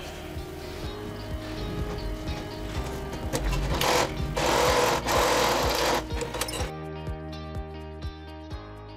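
A sewing machine stitches a pocket onto a blouse in a loud continuous whirring run that intensifies midway, then cuts to a steadier, lower mechanical hum near the end.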